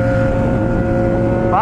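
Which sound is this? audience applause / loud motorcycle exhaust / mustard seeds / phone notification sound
loud motorcycle exhaust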